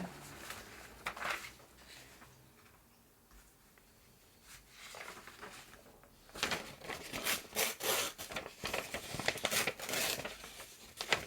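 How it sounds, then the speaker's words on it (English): Paper being torn by hand for a garden-themed collage page, close and quiet, with bursts of ripping and crinkling that grow busier toward the end. "I just like tearing."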